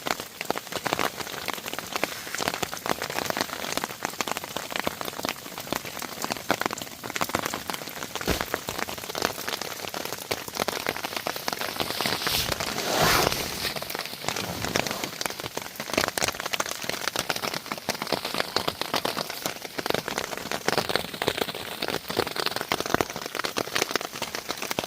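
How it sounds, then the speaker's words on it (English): Heavy rain pours steadily onto a woodland camp at night, a dense, continuous hiss of drops drumming on surfaces, loud and close with no voices. "the rain is tipping it down"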